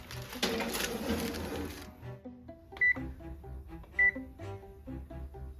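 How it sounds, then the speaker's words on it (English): A kitchen timer going off while cranberry walnut bread bakes: two short, sharp electronic beeps about a second apart, near and loud, amid light kitchen clatter and handling noise. "the 30-minute timer has went off"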